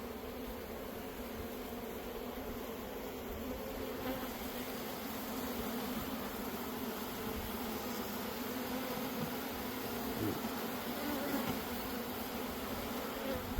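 Honeybees clustered in a ball inside an insulated hive give a dense, steady droning buzz, close and continuous throughout, with no voices.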